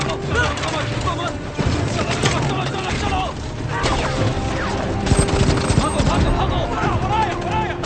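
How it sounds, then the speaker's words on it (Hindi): Bursts of rapid gunfire crack and echo amid chaotic noise, with voices shouting underneath and several sharp louder shots near the end. "हम पर गोलियां चल रही हैं।"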